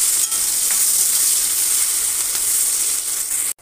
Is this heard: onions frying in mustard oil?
yes